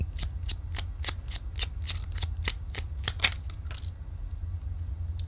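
A deck of tarot cards is shuffled close by in a quiet room, giving a rhythmic series of about a dozen crisp riffling snaps over a low background hum, then a brief softer rustle at the end.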